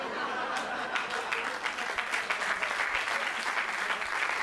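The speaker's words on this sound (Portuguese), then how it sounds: "aproveitem esse vosso aplauso" Audience at a stand-up comedy show applauding, dense steady clapping that carries on at an even level for several seconds with a few scattered laughs mixed in.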